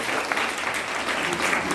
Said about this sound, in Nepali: एकचोटि जोरदार ताली पास गर्ने घर जबरजस्त